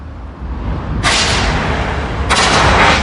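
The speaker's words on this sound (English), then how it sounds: "CO2 extinguishers can be stopped and restarted as required." CO2 fire extinguisher discharging, two loud bursts of harsh hissing gas, the first starting about a third of the way in and the second near the end, each cutting in abruptly over background rumble.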